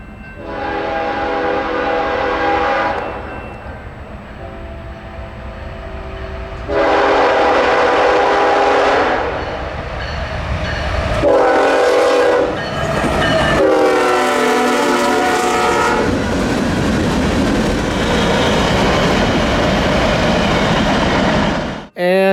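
CSX eastbound autorack freight train led by a single AC44 locomotive passes close by, with loud horn blasts, a steady heavy rumble and rolling railcar noise throughout.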